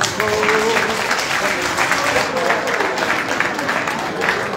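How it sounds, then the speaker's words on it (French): A hall audience applauds steadily at a French-speaking family reconciliation event, dense continuous clapping with voices mixed in. "Sous vos applaudissements."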